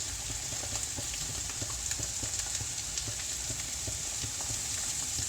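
Eggs and cheese fry in a pan for a home brunch, a steady, dense sizzle with faint crackles running evenly throughout, close by and without talk.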